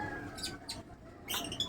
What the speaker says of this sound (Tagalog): Panoorin nyo muna yung aking mga alagang ibon